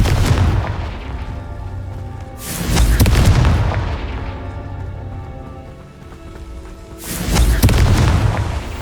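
Confringo blasting spell in Hogwarts Legacy, two heavy booming explosions a few seconds apart, each a deep rumbling burst that decays slowly, with no talk over them.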